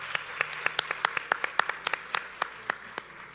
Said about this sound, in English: All right. Round of applause.